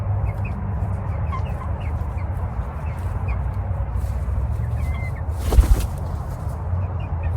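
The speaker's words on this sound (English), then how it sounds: "I think this chicken's about to jump up on me." Backyard chickens cluck steadily at close range in a coop being vented, with soft ambient rustling throughout and a brief louder bump near the end.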